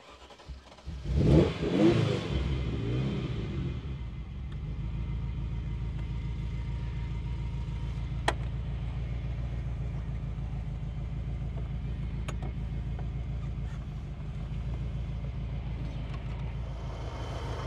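A 1988 Ferrari 328 GTS cranks and fires, flaring briefly with a loud rev before settling into a deep, steady idle rumble that holds close and even for the rest of the time, with no talking.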